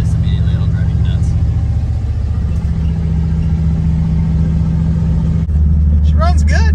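A 1981 Pontiac Bonneville Safari, an old station wagon long abandoned on an island, runs its engine while driving with a steady low rumble and hum throughout, briefly shifting pitch near the end, with people talking over it.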